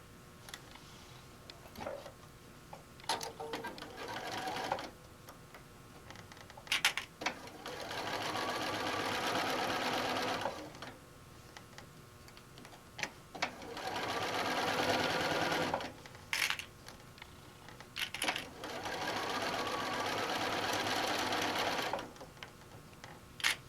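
Home sewing machine stitching the top of a bag in several long runs of steady whirring, separated by short pauses filled with small clicks and handling noises, close and moderately loud, with no talking.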